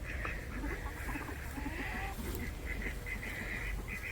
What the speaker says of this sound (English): there's some baby geese being all wee wee wee wee wee wee